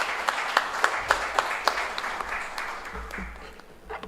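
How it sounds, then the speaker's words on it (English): An audience at a valedictory ceremony applauds, with sharp individual claps standing out from a steady wash of clapping that gradually fades toward the end. "Can we have a huge round of applause for sir?"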